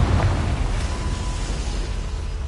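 Confringo fire-spell explosion in Hogwarts Legacy, a dull rumbling boom that hits at the start and then trails into a steady low roar, with no voices.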